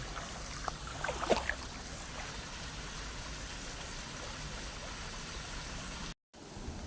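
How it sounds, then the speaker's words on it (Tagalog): The river at San Agustin, Dasmariñas, Cavite, Philippines flows with a soft, steady rush of water, faint and unbroken, heard from a little distance. "Ayan, ganda ng ilog dito."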